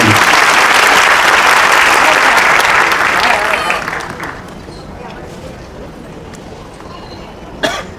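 A crowd applauds loudly for about four seconds in a hall, then the clapping fades into a quiet room murmur with a brief cough near the end.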